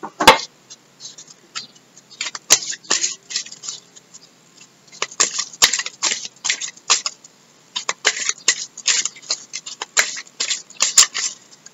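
A deck of tarot cards is cut and handled up close, giving a run of crisp papery flicks, slides and taps in uneven bursts with short pauses between them.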